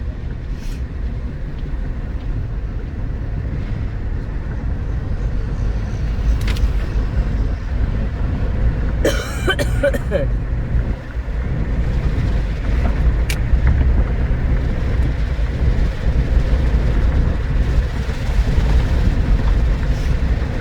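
Inside a 2005 Acura MDX on the road, a continuous low engine and tyre rumble with broadband road noise fills the cabin, broken briefly by a short rattling tick midway.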